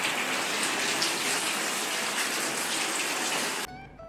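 Heavy rain pours steadily on a wet day by Lake Biwa in Shiga, Japan, a dense, even hiss close by that cuts off abruptly near the end.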